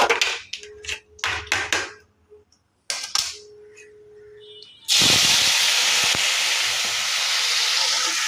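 Tomato, ginger and chili paste hits hot oil that already holds a black cumin tempering, bursting into a loud, steady sizzle and hiss. A few seconds of talk come before it.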